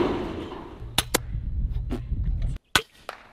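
Airgun shots fired at iguanas in Puerto Rico: a few sharp, close cracks spaced irregularly over steady outdoor background noise.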